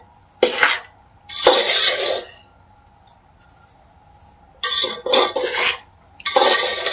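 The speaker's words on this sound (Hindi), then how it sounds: "मिक्स कर लेंगे अच्छे से।" A spoon stirs raisins into a ladoo mixture in a pot, giving several bursts of scraping and clattering against metal close by, separated by short quiet gaps.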